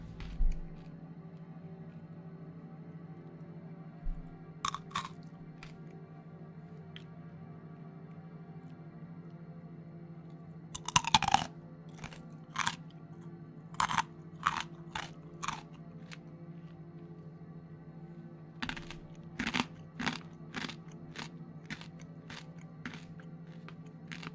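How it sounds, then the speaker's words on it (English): Crunchy food bitten and chewed close up in sharp, irregular bursts, several clusters of loud crunches spread over a steady low hum, with no talking. "This crunch should wake you up."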